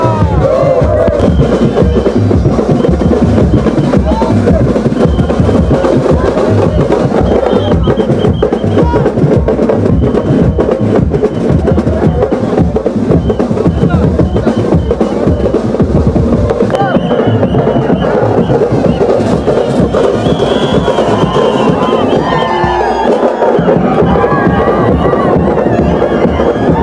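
Dense crowd gathered for the Navi Mumbai palkhi procession, a loud continuous wash of voices and bustle with a constant rhythmic pulse beneath, close and unbroken, briefly thinning near the middle.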